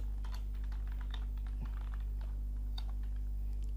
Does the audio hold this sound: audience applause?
no